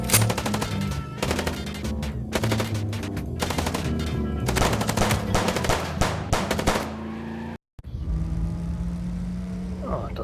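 Rapid automatic gunfire from the Chicken Police video game, dense bursts of repeated shots over several seconds, loud and close, cutting out briefly before a lower hum takes over.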